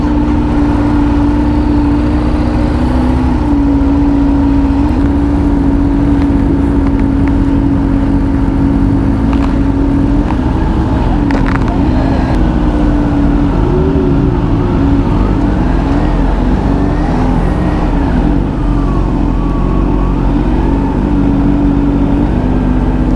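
Kawasaki ZX-10R and ZH2 motorcycles on a group ride along mountain roads, their engines droning steadily and loudly up close for the whole stretch, with pitch rising and falling as the riders shift and accelerate.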